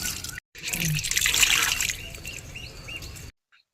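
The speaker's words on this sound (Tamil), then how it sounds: "நம்ம எப்பயுமே செடிக்கு தண்ணி ஊற்றக்குள்ளே சுற்றி ஃபஸ்ட்டு ஊற்றிட்டு தான் நடு மயத்துக்கு போகணும்" Water is poured around the base of a potted plant, a close steady splashing trickle lasting about three seconds, with faint birdsong in the background.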